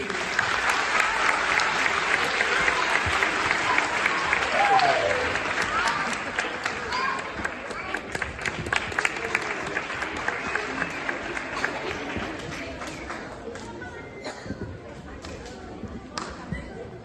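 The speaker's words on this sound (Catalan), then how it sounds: "Un fort aplaudiment per a ells i elles." An audience at a municipal school choir gathering claps loudly and steadily after the children's performance, the applause holding strong for several seconds before thinning out gradually, with some voices mixed in.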